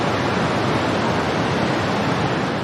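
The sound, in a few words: flowing water of the Saraswati River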